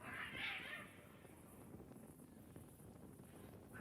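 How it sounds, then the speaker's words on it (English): Cats fighting and caterwauling in Kingdom Come: Deliverance II, a brief rising yowl up front that trails off into low ambient rumble, with a faint second cry at the very end. "Oh, the cats are killing each other."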